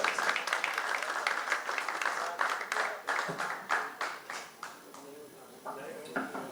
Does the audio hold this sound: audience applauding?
yes